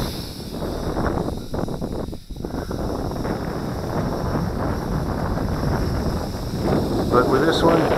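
Wind buffets the microphone outdoors while a WLToys V636 Skylark quadcopter flies in strong gusts, a constant rough rush with brief dips and surges over about eight seconds.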